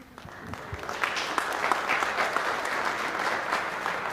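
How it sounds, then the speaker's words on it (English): Audience applause at a school district State of the Schools presentation, a dense, steady burst of clapping that swells in the first second and holds loud and continuous to the end. "get your hands ready to clap. You clap for this every time."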